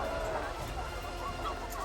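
Chickens cluck softly in a busy flock, a steady murmur of clucks with faint background noise.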